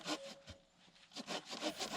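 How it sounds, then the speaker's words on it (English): A hand saw rasps through wooden branches for firewood in a few back-and-forth strokes, close up, outdoors in Scottish woodland, with a brief pause between bursts. "sawing them into smaller pieces and splitting them with an axe for dry firewood"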